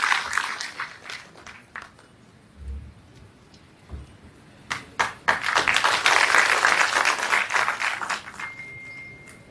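Audience applause fills a newly inaugurated hall during an award ceremony: scattered claps at first, then a denser, louder burst of clapping that swells and carries on for several seconds.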